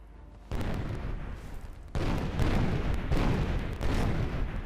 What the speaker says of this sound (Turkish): Birisi bombalıyor.